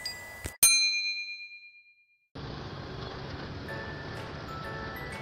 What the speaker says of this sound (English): There is a bell which rings when a train will pass.